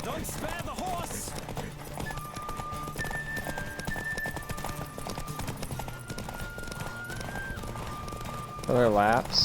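Horse hooves clip-clopping at a gallop in the Witcher 3 video game on Xbox Series X, a steady running rhythm under game music and a voice talking, with a whinny near the end.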